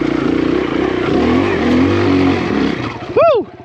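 Kawasaki KLX140RF dirt bike engine revving hard on a trail, a close, loud buzzing throttle that rises and falls, ending in a sharp rev burst, with a rider's voice mixed in.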